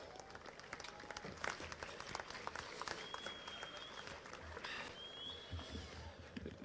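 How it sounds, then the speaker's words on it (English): Audience applause welcoming a speaker onto the stage at the opening ceremony of a high school track and field championship; steady, dense clapping from a large crowd, fairly distant and even throughout, with a faint whistle or two. "Let's welcome onto the stage, ladies and gentlemen, with a resounding applause, Mr. Barry Hendricks, President of SASCO."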